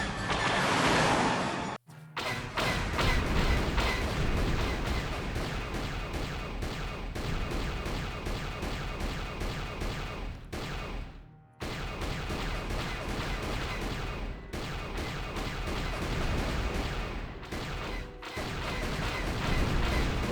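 Ship gun turrets in Star Wars: Knights of the Old Republic fire at Sith fighters, a dense continuous barrage of loud laser blasts and explosions with a few brief gaps.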